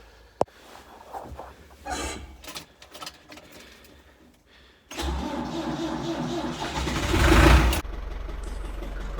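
Ford 4000 tractor engine starting: faint cranking and clatter, then the diesel catches abruptly and runs loud and steady, briefly rising in revs before settling.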